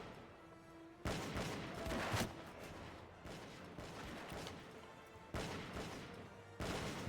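Musket and pistol fire in a Bannerlord battle, heard as a series of distant, crackling volleys in separate bursts with quieter gaps between them, each one a sharp onset followed by rolling rumble.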